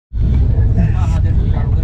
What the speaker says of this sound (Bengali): তো ট্রেন আমাদের ছেড়ে দিয়েছে